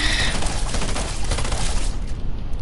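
Burst SMG gunfire in a video game, rapid rattling shots fired in quick clusters against brutes, loud and close, then cutting off sharply near the end.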